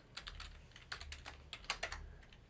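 Quick, uneven clicking of a computer keyboard during programming, with keystrokes falling in short bursts at close range and no voices.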